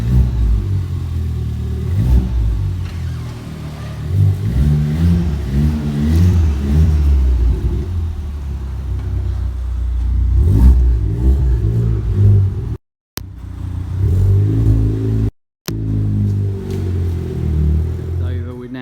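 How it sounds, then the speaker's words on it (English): Tuned Ford Fiesta ST running Stage 4 software with an exhaust overrun feature, revving repeatedly in rising and falling bursts up close, with brief gaps and people talking at times. "Car sounds really good anyway, as is."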